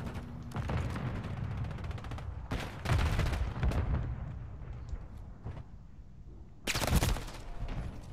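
Bursts of video game gunfire in a shootout, loud and close: several sharp volleys and rapid strings of shots separated by quieter gaps, with a heavy final burst near the end.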